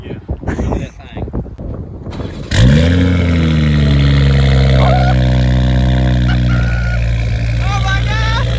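A Nissan Z with a downpipe exhaust fires up from a cold start: after some nearby chatter, the engine catches with a loud bark and settles into a steady, droning high idle that persists loudly to the end.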